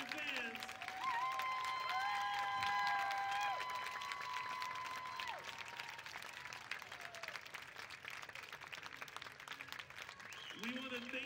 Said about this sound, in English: let's give another big, huge round of applause